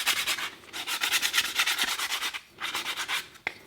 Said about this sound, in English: just go up and down this here to make sure it's nicely sanded all the way across